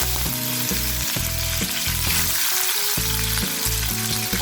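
Loud, close hiss and crackle of curry leaves frying in hot oil, continuous and bright, with a faint musical tone underneath.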